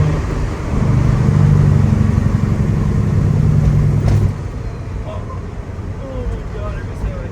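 Peterbilt 379 truck engine with a cam rumbles loudly and steadily for about four seconds, then settles to a quieter, lower drone; faint talk appears toward the end.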